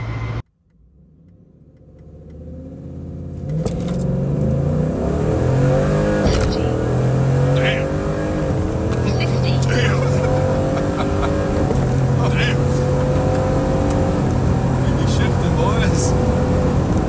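A truck engine fitted with a Richardson Performance 10R80 transmission starts up and runs steadily, its loud, continuous rumble holding with small shifts in pitch as it warms, while people talk nearby.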